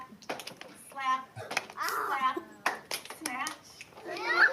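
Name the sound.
kids' clap, snap and slap hand game in played video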